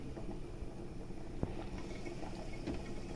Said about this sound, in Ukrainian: Тепер нехай трішки прокипить у цій каструльці і в баночки.